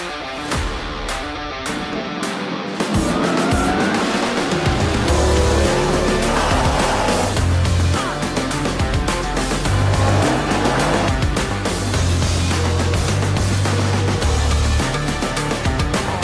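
Rallycross race cars battle wheel to wheel at Mondello Park in Ireland, engines roaring loud and continuous with tire squeals and skids, the noise swelling as cars pass close by.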